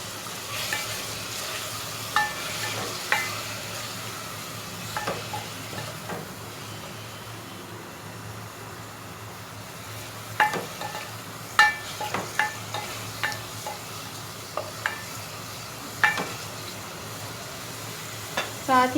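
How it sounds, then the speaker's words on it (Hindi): Chicken mince fries in a pan with a soft, steady sizzle, broken by scattered scraping and clinking stirs of a spatula against the pan, heard close up and fairly quiet. "अब मैं इसमें चिकन कीमा शामिल करूँगी और कुछ देर फ्राई करूँगी।"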